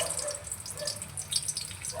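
Sliced papaya being rinsed in water, a steady wash of running and splashing water with faint trickles, close and continuous with no voices.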